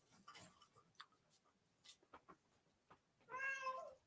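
Light scattered taps and clicks, then a single drawn-out cat meow near the end, quiet and close.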